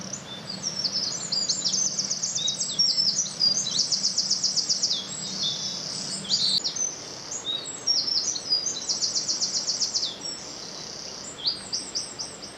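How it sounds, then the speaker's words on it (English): Wrens sing in the evening beside a clear chalk stream near an old mill, their rapid high trilling phrases repeating in bursts over a soft, steady background hum of flowing water. "As I said earlier, plenty of bird song at this time of night."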